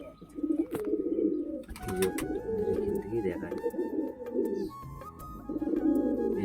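Pigeons cooing close by in repeated soft, throaty rolling calls, with a person speaking briefly over them and some background hum.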